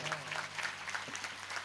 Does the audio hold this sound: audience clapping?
yes